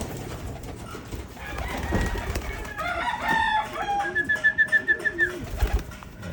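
Pigeons cooing in low murmurs with other bird calls mixed in, including a rooster-like call and a rapid pulsing series of bright chirps toward the end, fairly close and without talk.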